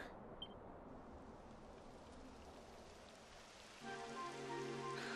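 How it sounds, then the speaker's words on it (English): Steady rain falls across an outdoor mountain area in Dragon Quest XI, a dense continuous hiss with no talk, joined near the end by soft game music. "It would have to go and start raining, wouldn't it?"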